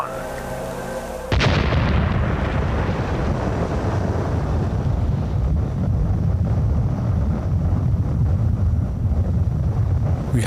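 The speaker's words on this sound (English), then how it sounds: "the countdown to the world's first atomic explosion began" The world's first atomic bomb test detonates in the desert near Los Alamos: a sudden loud blast after a quiet tone, followed by a long, sustained low roaring rumble that fills the rest of the clip with no voices.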